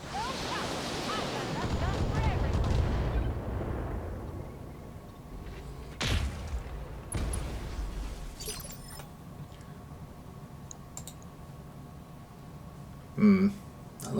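A BattleTech mech unleashes a volley of LRMs and a PPC shot, a rushing roar of missile fire followed by sharp crackling bursts and scattered impacts, fading to a quiet hum with a final burst near the end.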